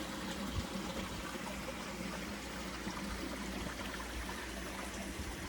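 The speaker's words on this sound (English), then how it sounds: "Listen to the water running through the rocks." A small island stream runs over rocks in cool, breezy morning shade, a constant, even babble and hiss of water heard close and steady throughout.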